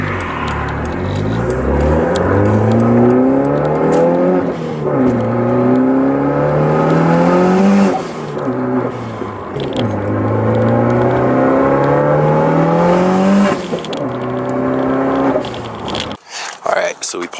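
A car with a newly installed airbox accelerates hard through several gears, the engine note climbing repeatedly then dropping at each shift, loud and close from inside the cabin.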